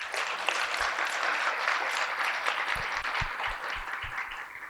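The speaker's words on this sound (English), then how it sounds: "Can we get a loud round of applause for our faculty, staff, and students who have helped out putting on the ceremony tonight?" An audience at a Middle Eastern and North African commencement ceremony gives a sustained round of applause, dense even clapping filling the hall with a few louder close claps standing out.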